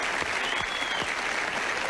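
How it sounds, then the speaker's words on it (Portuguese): Studio audience applauding the band on a Brazilian TV talk show, a dense continuous wash of clapping throughout, steady and fairly loud with no clear gaps. "Uma salva de palmas para os meninos que estão aí."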